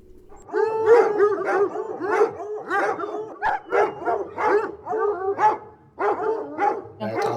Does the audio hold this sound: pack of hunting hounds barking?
yes